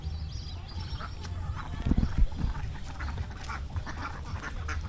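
Ducks on a village pond in winter quack from a moderate distance, with scattered calls over a low, steady outdoor background, and people talk faintly nearby.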